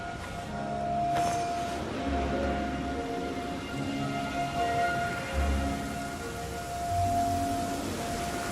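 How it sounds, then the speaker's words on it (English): Heavy in-game rain falls steadily in Genshin Impact, a constant wash of downpour with low rumbles, moderately loud and without voices. "Quite a downpour."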